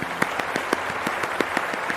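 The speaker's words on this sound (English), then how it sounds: "Rousing round of applause for Cat Pelt as they leave the show." A small group claps steadily in an even, fairly quick rhythm, distinct individual claps standing out, moderately faint.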